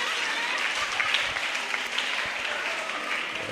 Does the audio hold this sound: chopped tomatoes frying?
no